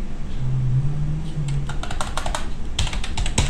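An email address being typed on a computer keyboard: a quick run of light key clicks, bunched in short bursts against a low background hum, with no talk.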